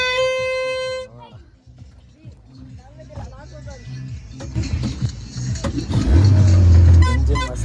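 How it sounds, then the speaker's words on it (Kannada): On a river boat ride at the Theerthahalli Yellamavasye fair, a boat engine starts after a horn blast amid chatter and builds into a loud, close, low rumble over the last couple of seconds. "ಇಂಜಿನ್ ಮಸ್ತಾಗಿ ಸ್ಟಾರ್ಟ್ ಆಗಿದೆ."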